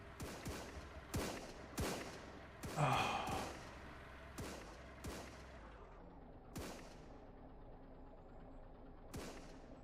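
Several sharp gunshots from bandits in the video game SurrounDead crack out at irregular intervals, fairly distant and echoing, with one louder burst near the three-second mark over a low ambient background.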